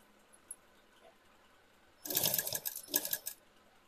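An electric sewing machine stitches a blouse in a short whirring run of about a second and a half, with a brief pause partway through, after a quiet stretch with faint small clicks.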